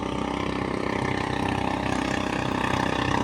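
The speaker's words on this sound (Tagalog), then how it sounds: "Ginagawa yung dalawang makina." Two fishing boat engines idle together at a shore in Mindoro, Philippines, a steady close mechanical drone with a rapid even throb that holds unbroken throughout, with no voices.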